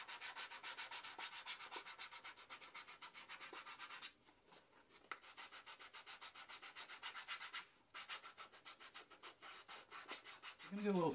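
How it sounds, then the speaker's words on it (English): Wet molded leather is beveled along its underside with rapid, rhythmic rasping strokes, close and fairly quiet, running in bursts with two brief pauses and a handling noise at the end. "we'll bevel the underside"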